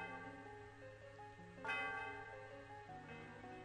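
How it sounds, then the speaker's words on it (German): In the Pokémon White video game, the Tower of Heaven bell rings with a deep, resonant toll, and a brighter strike partway through swells over sustained chiming tones in the game's music. "Ihre Glocke erfüllt die Umgebung mit ihrem wohligen Klang."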